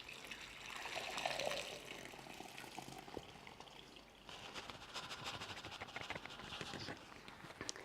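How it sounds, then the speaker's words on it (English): Cooked elderberries and their liquid poured through a muslin-lined sieve for homemade elderberry syrup, giving a steady, fairly loud wet trickling and splashing that shifts partway through, with no talking. "I'm just going to pour the berries through."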